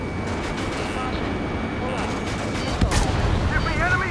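Artillery fire rumbles through a combat scene in Ace Combat 7, a dense, steady roar of heavy blasts and gunfire lasting throughout with a sharper burst near the end, loud and continuous beneath faint radio-style voices.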